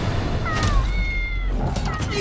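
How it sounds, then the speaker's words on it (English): A big cat sound effect in a film trailer gives drawn-out, meow-like wailing cries, loud and close, with trailer dialogue and music around it. "Run from a big cat, Lawrence."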